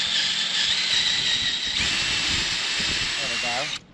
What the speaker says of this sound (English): we have to drill it out because this is aluminum and the holes are too small for the bolts